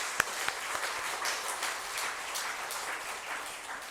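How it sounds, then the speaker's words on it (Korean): Applause from a church congregation for the young people at a youth Sunday service: steady, fairly faint clapping from many hands that carries on evenly throughout, with no talk over it. "청년들 격려하는 박수 한번 해주시기를 바랍니다"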